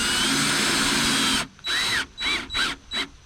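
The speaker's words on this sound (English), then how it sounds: "snug it up, get your screw head just below the sheetrock so it's a little low" A power drill drives a screw into sheetrock during a drywall repair: one long steady whirring run, then a pause and several short, close bursts with a rising whine as the screw head is snugged below the surface.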